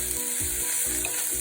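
Bok choy and red onion sizzle in a hot pan, a steady bright hiss with a few soft stirring scrapes, close and continuous.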